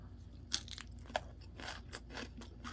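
Lightly blanched cabbage crunched and chewed up close, a steady run of crisp, wet bites and chewing with sharp snaps standing out, no talking.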